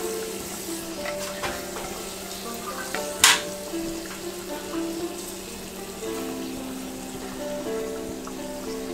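Roman-style oxtail stew sizzles in a pan on a burner set to medium-low, giving a steady close hiss with one brief clatter partway through and no speech.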